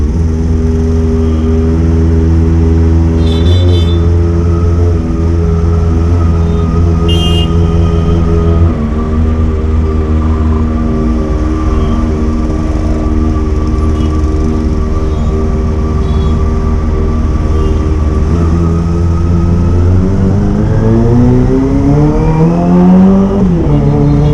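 Riding a Kawasaki ZX25R motorcycle through congested road traffic toward Banten, with a loud, steady engine drone close by and a rev rising near the end.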